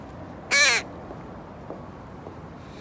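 A crow caws once, loud and fairly close, a short harsh call in the Guadalupe River Park and Garden in San Jose, followed by faint outdoor ambience.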